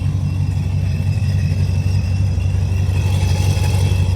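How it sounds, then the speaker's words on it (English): Supercharged Chrysler 300 with a TorqStorm supercharger running steadily at night, a loud, continuous low engine drone with a faint high supercharger whine layered on top and no one talking. "Y'all hear the torque storm?"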